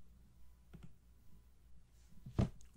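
A computer mouse double-clicks once, a short sharp pair of clicks standing out near the end over a quiet room hum, with a fainter click earlier on.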